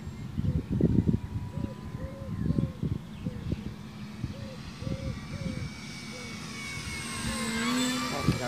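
A radio-controlled Dynam Tempest model airplane, struggling with power problems, flies with a faint thin motor whine that rises toward the end, heard behind outdoor talking.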